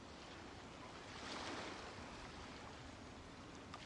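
Ocean waves in the video game Genshin Impact make a soft, continuous wash of surf that swells gently in the middle, quiet and steady with no voices.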